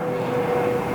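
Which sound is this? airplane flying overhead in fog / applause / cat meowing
airplane flying overhead in fog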